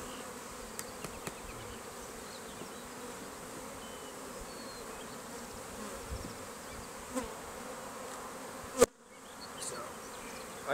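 Disturbed honeybees buzzing steadily in an opened hive at an Italian package-bee operation, a dense continuous drone close by with a brief knock near the end and no talking.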